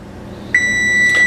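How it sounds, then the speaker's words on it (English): A kitchen timer goes off after a 30-minute bake of hardtack, a single steady high-pitched electronic tone that starts abruptly and holds unbroken over faint room noise. "there goes our timer"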